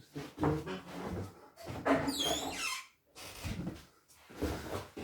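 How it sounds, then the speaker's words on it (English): A door gives a high, wavering squeak for about a second as it swings shut, set amid bursts of shuffling and handling noise close to the microphone. "let's just close the door."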